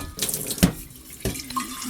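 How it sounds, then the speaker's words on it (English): Tap water running into bottles at an office kitchen sink, a short burst of gurgling, splashing flow with a couple of sharper splashes and a rising fill tone, close and fairly clear. "Fill the water up."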